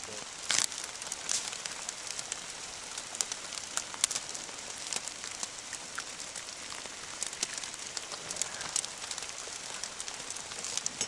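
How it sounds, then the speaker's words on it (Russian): Rain pattering on a tent in the taiga, a dense hiss of drops with sharper individual taps scattered throughout, steady and close, no voices. "Зараза дождь."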